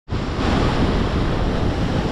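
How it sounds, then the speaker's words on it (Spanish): Strong ocean waves break on a shore in a loud, continuous roar of surf, with wind rumbling across the microphone and no voices. "Pueden ver las olas están un poco fuertes."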